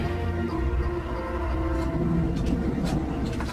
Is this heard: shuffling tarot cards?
no